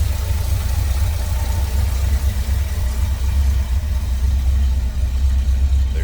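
A 1970 Chevrolet C10 with a 350 V8, Edelbrock intake and carburetor, running smoothly at a steady idle: a close, continuous low rumble with no talk.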